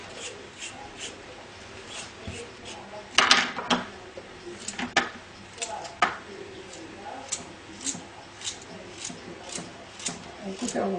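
A knife slices carrots into rounds on a cutting board for a pork shoulder and lentil dish, making light, fairly regular taps, a few sharper, with a voice talking nearby.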